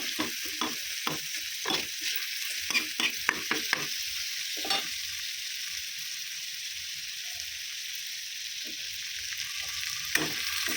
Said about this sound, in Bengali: আমি যে আদা আর রসুন পেস্টটা দিয়ে দেবো, এটাও একটু ভেজে নেব।